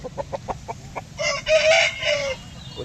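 Chickens cluck in quick repeated bursts, then a rooster crows loudly at a poultry market, close and prominent over a low crowd murmur.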